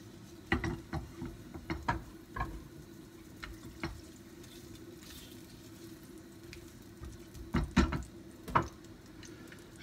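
Garlic frying in olive oil gives a soft steady sizzle, broken by scattered clicks and taps of utensils against the pan, moderately close.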